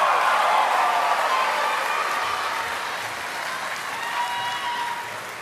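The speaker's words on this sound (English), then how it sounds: "let's please give them another mate matonga round of applause" Audience at a lifetime achievement award ceremony giving a round of applause, steady loud clapping from a large crowd throughout, easing slightly toward the end.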